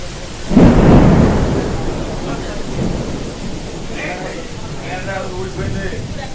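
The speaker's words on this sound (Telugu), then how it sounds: "తుఫాన్ అండి. చూడండి గాలి ఎలా వస్తుందో, వర్షం కూడా అంతే స్పీడ్గా వస్తుంది." A cyclone storm roars with heavy, steady rain and strong gusting wind, a loud rumbling surge near the start settling into a continuous downpour, while a person talks over it.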